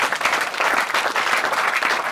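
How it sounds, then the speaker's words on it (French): Church congregation clapping in praise, loud continuous applause with a rhythmic, unified beat running the full length. "Donnons une acclamation au Seigneur."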